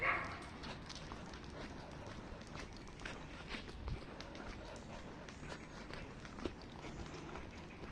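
Dogs trotting and moving about in a garden, with faint scattered paw patter and rustling at a distance, low and continuous with no clear talk.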